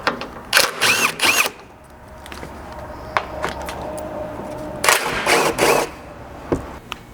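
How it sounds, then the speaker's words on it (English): Socket tool spinning out the rear bolts of a 200 Series Toyota Land Cruiser's center skid plate, in short, loud mechanical whirring bursts with quieter gaps between them. "to get this remaining center skid down, you'll just remove the back 2 bolts here using the same socket"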